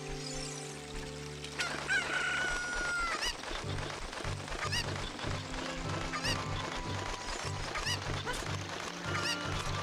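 Chickens cluck and a rooster crows in a video game, the crowing rising over looping game music and effects with bursts of clucking throughout.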